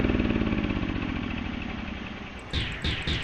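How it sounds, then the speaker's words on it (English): Spaceship engine in the Chicken Invaders 2 video game, a steady buzzing motor drone like a go-kart engine running continuously, with sharper bursts of game effects near the end. "I like how the engine for this ship sounds like a go-kart"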